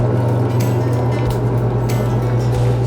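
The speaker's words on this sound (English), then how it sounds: "I'm going to turn on the machine. It's going to make a little noise." An ice cream making machine runs steadily up close, a continuous loud mechanical hum with a strong low drone and some fluid churning in a science lab setting.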